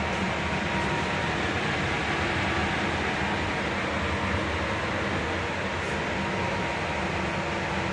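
A steady, even whoosh of a newly installed 5-ton Trane air-conditioning system running, constant broadband hum with no speech or change in level.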